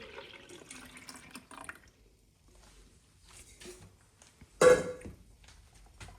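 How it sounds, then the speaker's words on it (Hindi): Leftover milk is poured into a blending jar for homemade malai kulfi, heard as soft, faint liquid trickles and one short louder splash near the end. "इसमें हम ये बाकी का बचा हुआ दूध डाल देंगे"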